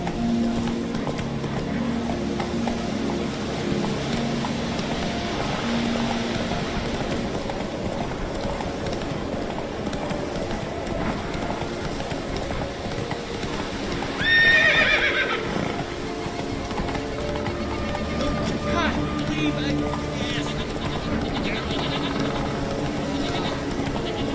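Horse in The Witcher 3 game, with clip-clop hooves and a whinny midway over steady game ambience and music.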